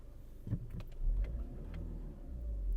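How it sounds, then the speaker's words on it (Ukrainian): A Skoda Octavia TDI diesel with automatic gearbox and 241,000 km starts up: a short cranking burst, then the engine catches and settles into a low, even idle rumble nearby. "Давайте запустимо двигун. Двигун запускається чудово."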